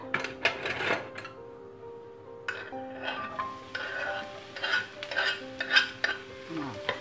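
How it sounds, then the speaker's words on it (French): Sliced onions go into olive oil, with utensils clattering and scraping against the pan, then a hissing fry builds up and carries on under more stirring knocks. "On va bien faire revenir les oignons."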